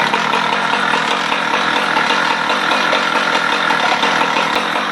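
A 455 Rancher engine, which loses power under load, idles outdoors with a steady, close, buzzing rattle that stays even and unbroken throughout, with no revving.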